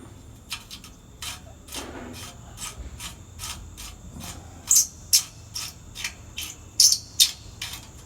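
A differential pressure tube being worked loose from an engine, giving a run of rhythmic rasping, ratcheting scrapes with a few sharper clicks, close and isolated without speech.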